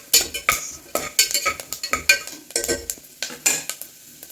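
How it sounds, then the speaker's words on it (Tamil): Cumin seeds and grated coconut frying in a pan for Kerala-style kalathappam, with a spoon stirring and scraping in a steady rhythm of clinks over a light sizzle, close and fairly loud. "இப்போ நம்ம ஜீரகம் நல்லா பொரிஞ்சிருச்சு, தேங்காயும் நல்லா சிவப்பாக வந்துருச்சு."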